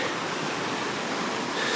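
Pacific Ocean surf rolling against a jetty, a broad steady wash of rushing noise heard from nearby without pauses, no voices.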